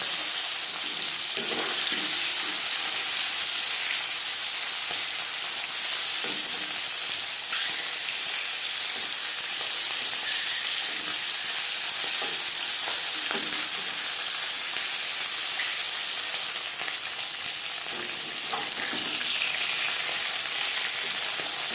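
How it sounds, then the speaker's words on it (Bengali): Banded eel (pakal/bam) fish pieces sizzling in four spoons of hot refined oil in a pan; a continuous loud frying hiss with occasional clinks and stirring, no voices. "চার চামচ রিফাইন্ড অয়েল গরম করে নিয়েছি এবার দিয়ে দেবো ময়লিশ করে রাখা মাছ"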